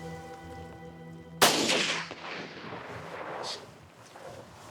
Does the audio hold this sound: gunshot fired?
yes